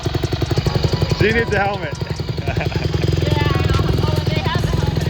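A 2012 Honda CRF150 dirt bike engine runs after being kickstarted, a close, steady rapid putter that rises in pitch briefly, with people talking over it.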